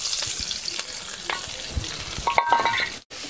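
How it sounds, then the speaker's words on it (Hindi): Onion hits hot oil for tempering while frying Barari fish, a steady close sizzle with scattered crackles and stirring clicks, no talk over it. "अब देखिए फोरन में प्याज के फोरन देते हैं"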